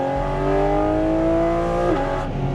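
A 2023 Porsche 718 Cayman GT4RS engine is heard up close under load through a corner, its rich harmonic tone rising steadily in pitch, then dipping briefly as it shifts and pulls on again.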